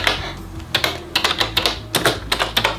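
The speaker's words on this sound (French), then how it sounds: "Une fois que vous avez connecté votre clavier à votre tablette, vous pouvez commencer à écrire." Someone types on a keyboard connected to a tablet, producing a quick, uneven run of close, crisp key clicks with short pauses, heard alone without talk.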